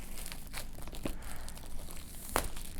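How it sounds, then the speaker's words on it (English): Plastic wrap being ripped open on a Samsung Galaxy S III phone box, close and crinkly with a sharp tearing burst near the end. "Go ahead and rip the plastic open."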